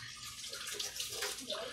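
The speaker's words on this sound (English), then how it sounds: "I'm gonna go ahead and try to rinse out these seeds" Tap water runs steadily over chili seeds being rinsed in a kitchen sink, a continuous close splashing wash with no voices.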